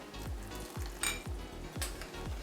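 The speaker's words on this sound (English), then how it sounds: "Right now I'm just cooking down the cornstarch, making sure you can't taste it when you're going to eat it later." Cornstarch-thickened gravy simmers at a low boil in a pan, giving a steady close sizzle and bubbling with regular soft stirring strokes about every half second and occasional brighter spatters.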